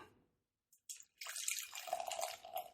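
Dark sour beer is poured into a glass after a brief quiet pause, a soft continuous splashing and fizzing pour heard close and fairly faint.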